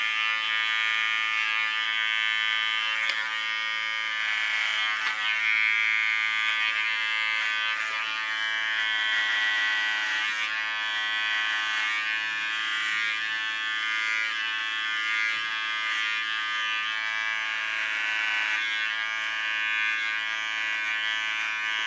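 Electric hair clipper cutting ultra-short hair at the neckline, blade laid flat on the skin; a steady, close, high-pitched buzzing hum runs continuously without pause.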